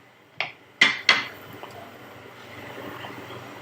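A metal lid set onto a pot of kongu-style Trevally fish curry, three sharp clanks in quick succession, close and fairly loud, then a quiet simmering hush.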